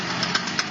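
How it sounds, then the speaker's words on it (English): A car with a faulty CV joint runs with a steady engine drone broken by a few sharp, irregular clicks and knocks in less than a second. "CV joint."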